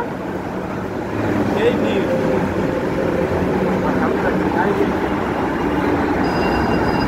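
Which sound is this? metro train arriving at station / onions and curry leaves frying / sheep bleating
metro train arriving at station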